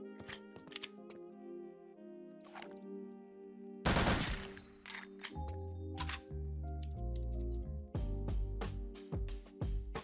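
Rapid video-game gunfire crackles in bursts and single shots while a map is being tested, loud and close with sharp repeated reports and no talking.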